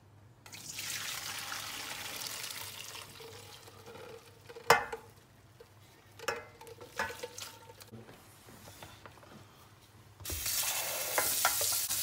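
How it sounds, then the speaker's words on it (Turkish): Cooked spaghetti is drained in a colander: a steady rush of pouring water, then scattered clanks and drips, and a second loud gush of water near the end. "Hemen makarnayı süzmeye geçiyoruz."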